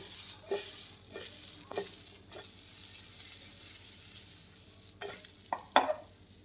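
A spoon stirring patra in a pan after lemon juice and fresh coriander are added, heard as soft scrapes and a few sharp knocks against the metal over a faint sizzle.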